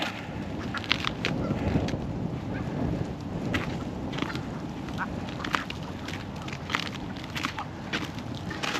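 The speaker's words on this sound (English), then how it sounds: "A whole bunch of geese here are gonna take off in a second, possibly." A flock of geese near a frozen waterfront honking, with dense overlapping calls and quacking-like squawks scattered throughout over a constant rustling background, fairly close.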